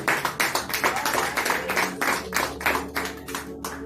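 A church congregation claps in rhythmic, repeated bursts during an evening service, a close, steady beat of many hands with a low background hum.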